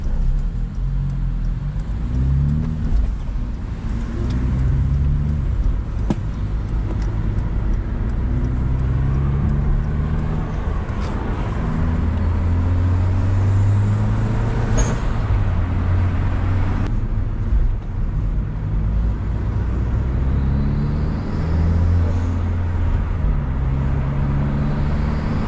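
Genesis Coupe 2.0T R-Spec, aftermarket rims and spoiler, cruising with a steady low engine drone and road rumble, turbo note blended into continuous car noise heard from inside the cabin.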